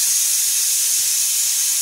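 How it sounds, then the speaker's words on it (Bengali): Loud continuous high-pitched hiss of steam escaping from the whistle of a pressure cooker cooking rice, close and steady throughout. "প্রেসারে ভাত দেওয়া আছে, তাই ভাতটাও হয়ে গেল। সিটি দিচ্ছে"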